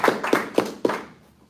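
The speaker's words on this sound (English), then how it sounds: "Let's clap for all the participants." A brief burst of clapping from a small audience for participants at a school event, four or five quick claps that fade out within a second.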